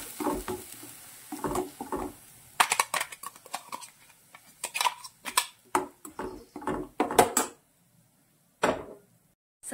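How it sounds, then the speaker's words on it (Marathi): Ground filling sautéed in oil in a pan: irregular scrapes and taps of a utensil stirring against the pan, close and clear, with quiet gaps between strokes and no talking. "मस्त असं परतून घ्यायचं आहे."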